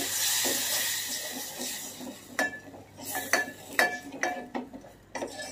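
A spoon stirs cashew puree into a white Kolhapuri chicken curry in a metal pan, giving a series of sharp clinks and scrapes against the pan over a low hiss, with no speech.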